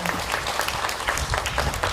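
Dense applause from an audience at an art exhibition event fills a brief moment, a continuous, fairly loud wash of many hands clapping with no talk over it.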